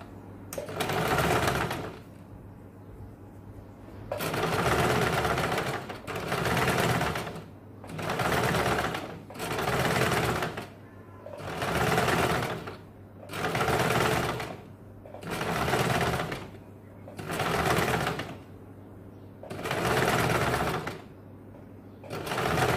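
A sewing machine stitches a blouse seam in bursts, running for about two seconds at a time with short pauses between, a steady close whirring rattle repeated around ten times.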